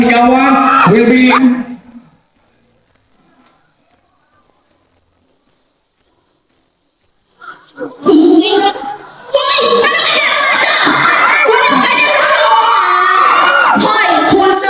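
Loud mall-show audience in Cebu shouting, screaming and cheering in two bursts, a short one at the start and a long sustained roar after several seconds of near silence, with children's voices prominent.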